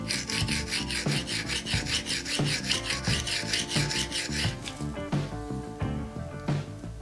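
A knife being reground on a coarse sharpening stone, with close, steady rhythmic rasping strokes, each gritty scrape repeating back and forth, loud and alone with no talking.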